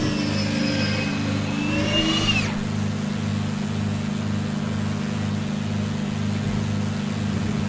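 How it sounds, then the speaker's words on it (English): Landing gear retracting on a Bonanza F33A in a flight simulator: a rising motor whine that climbs in pitch for about two seconds and then cuts off, over a steady droning engine hum with a rhythmic pulse. "Gears coming up."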